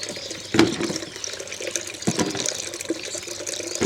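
Freshly pressed cider apple juice pours from a press into a bucket, a steady close splashing trickle with a few louder gurgles, no voices.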